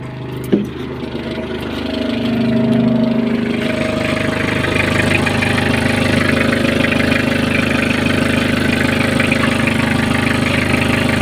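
After a brief clunk, a Kubota diesel engine comes to life and settles into a loud, steady rumbling idle that continues without change.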